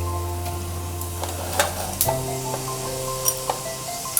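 Mustard seeds and cumin sizzle in hot tempering oil, giving a steady frying hiss broken by sharp crackles and pops, over a low background hum.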